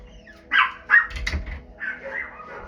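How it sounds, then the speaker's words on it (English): Dogs give a few sharp barks and yips close by indoors, two quick barks followed by softer whimpering, fairly loud against a quiet room. "Excuse the dogs, guys."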